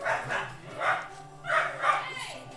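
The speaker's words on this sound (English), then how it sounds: "The dogs are going nuts." Several dogs bark in excited bursts, yipping and whining in four or five clustered volleys close by indoors, with a steady low hum underneath.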